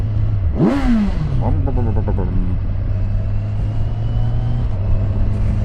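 Kawasaki Versys 1100 motorcycle on a ride, its engine droning steadily throughout with a rising rev sweep early on and a brief second climb, loud and close over constant road rumble.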